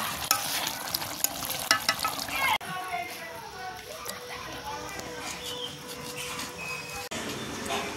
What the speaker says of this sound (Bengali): মাছটা দিয়ে দিয়েছি। এবার 5 মিনিটের মতো ফুটিয়ে নেবো